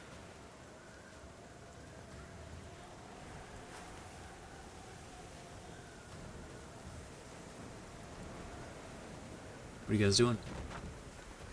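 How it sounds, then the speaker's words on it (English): A storm raging outside as a background effect in a tabletop game session: a steady, faint wash of rain and wind, growing a little louder, under quiet voices, with a brief loud clatter near the end. "Storm, you can hear it louder now, raging outside."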